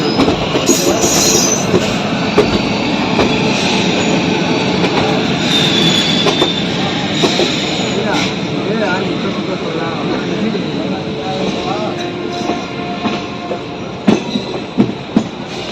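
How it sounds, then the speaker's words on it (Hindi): The Patna–Purna Express (17609) rolls along the rails in general class, with continuous rumbling, wheel squeals and clatter, and voices talking over it. "10:30 में हमारी गाड़ी यहाँ से डिपार्ट हो गई।"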